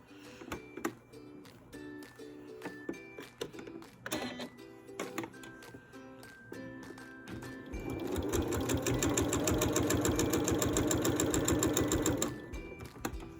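A sewing machine stitches quilt binding about a quarter inch in, starting with short stop-start bursts and clicks, then running in a loud continuous whir for several seconds before stopping.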